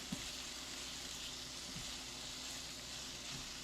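Pork, tomatoes, green peppers and onion fry in a hot pan with a soft, steady sizzle at low volume, broken by a few faint utensil taps and stirs.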